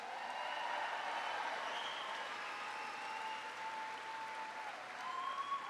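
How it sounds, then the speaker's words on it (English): Sustained applause from a large crowd, a steady wash of clapping with a few whoops and cheers rising over it. "Give Kathy a big round of applause."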